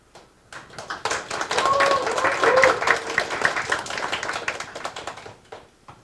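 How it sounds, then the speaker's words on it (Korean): An audience applauds ahead of a talk, the clapping building from scattered claps into a moderate round, with a few voices underneath, before tapering off. "좀 큰 박수로 저희 강연 잘할 수 있게 응원 부탁드리고요"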